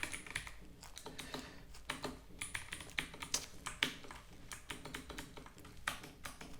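Fast, irregular bursts of keystrokes on a computer keyboard as code is typed quickly, close and clear, with no talking.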